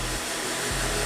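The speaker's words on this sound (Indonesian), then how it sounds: "kemudian rambut dikeringkan dengan handuk dan kemudian dilanjutkan dikeringkan dengan menggunakan hair dryer sampai betul-betul kering" A hair dryer blows steadily and loudly up close, drying straightened hair after a smoothing treatment, and its low motor tone dips briefly as the airflow shifts.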